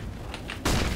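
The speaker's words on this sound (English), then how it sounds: "Throwing flashbang." A flashbang grenade goes off in Counter-Strike: Global Offensive, a sudden loud close bang that follows a quieter stretch and stays loud to the end.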